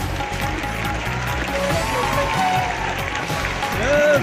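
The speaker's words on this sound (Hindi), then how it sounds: "जोरदार तालियों के साथ अभिवादन" A crowd claps steadily throughout a women's empowerment (Matrushakti Vandan) event honouring young women with Chief Minister Yogi Adityanath, the loud, dense applause holding steady and swelling near the end, with a voice and tones faintly over it.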